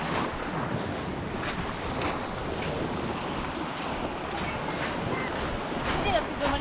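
Sea waves washing in at the tip of a sandbar on Kalanggaman Island, a steady broad wash of surf with wind buffeting the microphone throughout.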